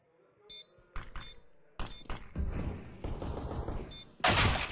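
Gunfire in a CS:GO match at a Paris RMR tournament: sharp, loud bursts of shots and a rapid fusillade, mixed with clinks and thuds.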